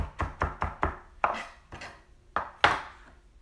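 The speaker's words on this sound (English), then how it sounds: "And now I'm just gonna chop it up." A knife chops vegetables for chow mein on a board: about eight close, crisp strikes, a quick even run of four followed by slower, heavier chops, with no other sound around them.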